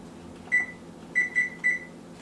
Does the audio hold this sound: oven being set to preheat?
yes